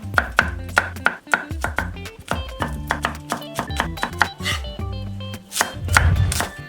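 Garlic being chopped with a knife on a cutting board, a quick series of sharp, close thunks in an uneven rhythm, loud and alone without talk.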